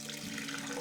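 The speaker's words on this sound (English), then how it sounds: "So I am going to pour the fixer back out" Used black-and-white film fixer pours steadily out of a developing tank, a continuous close liquid splashing and gurgling with no pauses.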